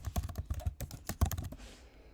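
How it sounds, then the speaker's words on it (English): Quick burst of typing on a computer keyboard, about a dozen close, crisp key clicks in an uneven rhythm, then the tapping stops and a faint room hush remains. "we type in certificate"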